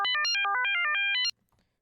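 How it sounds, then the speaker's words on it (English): Synthesized tones generated in RTcmix step rapidly through pitches that jump randomly up and down by octaves, a quick bright sequence of short beeps lasting about a second before stopping abruptly. "what we should get is these frequencies randomly changing octaves up and down"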